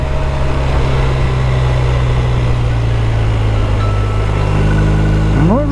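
Motorcycle ridden along winding Carpathian mountain roads, its engine droning steadily and loudly up close with wind rush, a brief rise in pitch near the end as the rider shifts.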